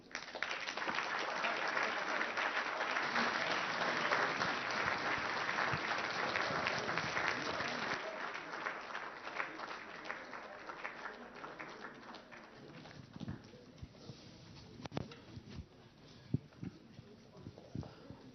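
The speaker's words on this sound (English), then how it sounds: "Ladies and gentlemen, let's give them a huge round of applause" Heads of state get a huge round of applause in the ballroom at the Kigali Serena Hotel during the East Africa Business Summit 2014, loud dense clapping that gradually thins into scattered claps and a few sharp knocks.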